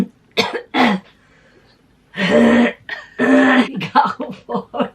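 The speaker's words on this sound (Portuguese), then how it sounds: "Eu vou dar uma tossida aí, porque tua voz tá..." A woman deliberately clears her throat and coughs several times in short bursts, close up, separated by brief pauses, with a few softer throaty sounds at the end.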